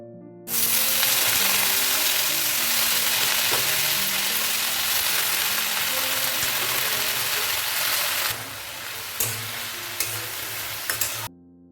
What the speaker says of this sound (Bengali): আর লাল শাক ভাজা করব এখন